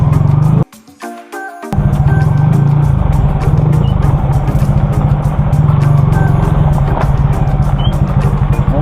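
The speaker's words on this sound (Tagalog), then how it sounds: "Engine brake." A vehicle's engine brake holds a loud, steady, pulsing rumble close by on a late-night typhoon ride, after a brief dip at the start.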